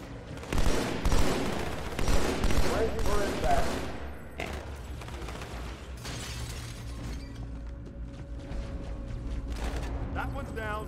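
Rapid bursts of gunfire crackle in Halo 2, loud repeated volleys over the first few seconds, then a quieter stretch of game sounds, with a voice talking over it.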